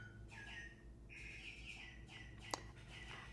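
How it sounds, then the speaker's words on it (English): A small plastic motion-detector toy bird gives faint, repeated electronic chirps and tweets in a quiet kitchen, with a single sharp click partway through. "I went to Walgreens the other day and I saw this little motion detector plastic bird."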